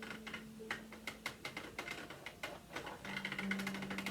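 A Sentro knitting machine is cranked slowly by its handle, giving an even run of light mechanical clicks and ticks with a faint hum underneath, close and quiet, with no talking.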